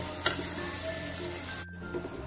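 Onions sizzle steadily in hot oil in a pan while being sautéed for Saoji chana dal kanda, a constant close frying hiss with a few stirring clicks.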